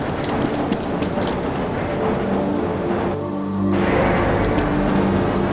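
Train ride in the Half-Life video game, a steady rolling rumble of a rail car with clattering and a brief mechanical whine partway through, loud and continuous.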